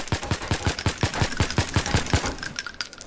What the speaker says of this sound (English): Look, you wanna see the bullet spread? This does more damage than M4A1.